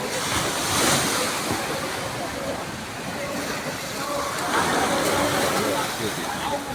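A tidal bore surges up the Ganges, making a continuous roaring wash of water with wind buffeting the microphone, heavy and unbroken from start to end.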